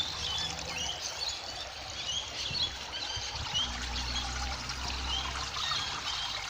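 Water from an aquaponics pump pours steadily through a homemade filter, a continuous close trickle and splash with faint bird chirps in the background.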